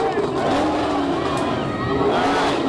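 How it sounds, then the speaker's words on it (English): Vehicle engines revving at the Buc Days Parade make a continuous, loud, rumbling drone that swells slightly, with crowd noise and talk mixed underneath. "while they are revving up their engines and showing off to the parade crowd"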